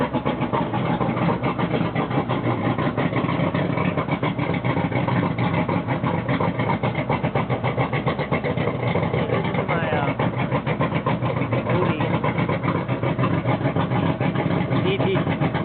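Homemade pipe muffler on a 225 outboard motor: a steady mid-pitched engine hum with a fast, even pulse runs continuously and fairly close, with someone talking over it.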